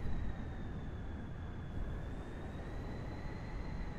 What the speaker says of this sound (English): Oh, there's more helicopters.